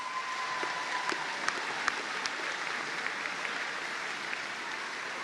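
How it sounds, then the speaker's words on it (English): Applause for graduating education students at a Bath Spa University graduation ceremony in July 2024, a steady wash of clapping from a large hall audience, fairly distant and even, with a few sharper claps standing out. "give them a big round of applause"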